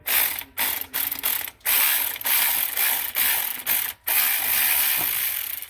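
A ratchet wrench clicks in quick bursts of loud, close ratcheting, pausing between strokes, while turning out the last bolt on a car water pump.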